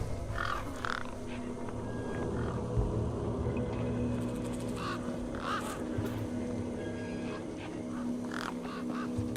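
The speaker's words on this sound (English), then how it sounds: "Those birds weren't going to let me anywhere near the back of the truck." Birds squawk and caw in short, sharp bursts near a truck in the video game Beyond a Steel Sky, over a steady low ambient hum, with no talking.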